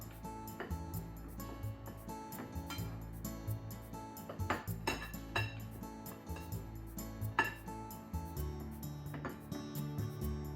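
Steamed rice is served into a bowl for a crab meat omelette rice bowl: light clinks and taps of dishes and utensils, spread unevenly across a steady musical background, with no talking.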